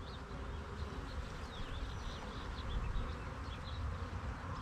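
Honey bees in a hive box drone with a dense, continuous buzz heard up close, with individual wingbeats flickering above the low hum throughout.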